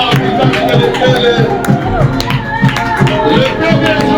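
A church congregation at a lively French-language worship service claps in a steady rhythm and cheers, loud and close, blended with singing and voices throughout.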